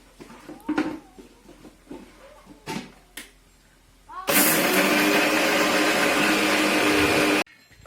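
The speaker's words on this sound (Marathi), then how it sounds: "एकदम बारीक असे आपल्याला मिरची काढून घ्यायची मिक्सरमध्ये" Kitchen mixer grinder whirring loudly and steadily for about three seconds as it grinds green chillies with salt, after a few soft clinks and handling knocks, then cutting off abruptly.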